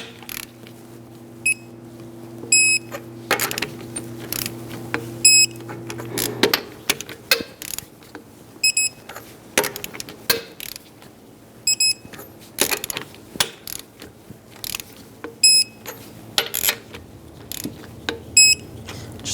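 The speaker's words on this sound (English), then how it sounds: "Now I'm going to torque the lug nuts to 140 foot-pounds in a cross pattern." Torque wrench tightening lug nuts on a 2008-2017 Buick Enclave during rear brake caliper work: repeated rapid ratcheting clicks in short bursts, crisp and close, separated by brief pauses, with a low hum early on.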